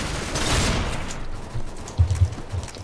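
Shotgun blasts in the shooter game Counter-Strike: Global Offensive: an opening burst of gunfire fades out, then two or three short, punchy booms follow close together, with no voices.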